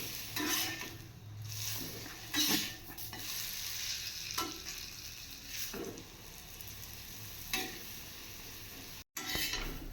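Meat frying in a pan, a soft steady sizzle close by, broken every second or two by a spatula scraping and turning the pieces, quiet overall.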